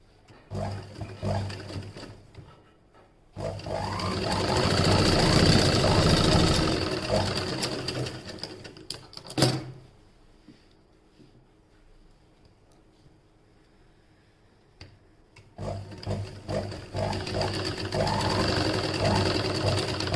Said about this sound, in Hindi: दोस्तों हम बैक का ब्लाउज सिल रहे हैं।